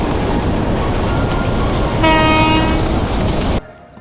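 A Bangladesh Railway train runs from Dhaka to Jamalpur with a loud, steady rumble. Its horn sounds for about a second and a half midway, and the noise drops abruptly near the end.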